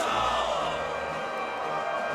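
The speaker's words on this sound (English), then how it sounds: "Oh, everyone's cheering." Crowd cheering in Dragon Quest 11 as a celebrated Luminary is honoured, a dense, continuous roar of many voices at steady loudness.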